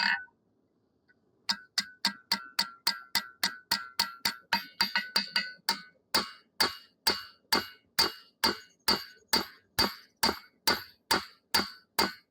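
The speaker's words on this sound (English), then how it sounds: "This is a much lighter hammer" Steady, rapid hammer strikes ring out on a chef knife blade, dozens of sharp metallic blows in an even rhythm that quickens briefly, then settles into a slower, heavier pace.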